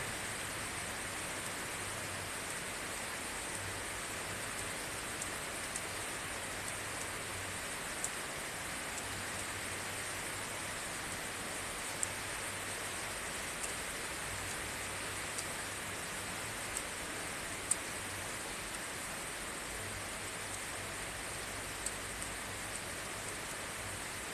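Steady rain falling, a dense even hiss that continues unbroken for the whole stretch, with a few faint isolated drips or taps and no voices.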